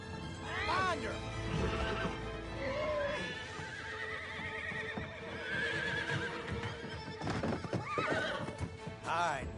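A horse whinnies loudly and repeatedly while its hooves clip-clop beneath, up close in a busy movie chase scene as people shout over the commotion.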